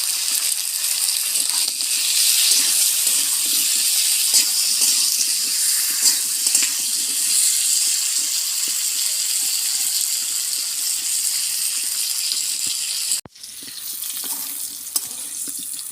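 Potatoes and papaya frying in a pan for a rui fish curry make a loud, steady sizzle close by. A sharp knock near the end is followed by a slightly quieter, continuing hiss.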